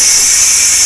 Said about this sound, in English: You should be very careful when you release the steam on this